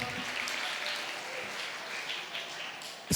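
An audience claps at a Tamil Christian gathering, a steady wash of many hands applauding at moderate volume for a few seconds, with no talk over it.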